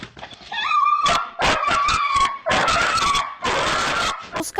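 A frightened dog, shaken by fireworks, whimpers and yelps in distress, giving high wavering whines broken by sharp yips and short cries, close and fairly loud, with rustling and movement around it.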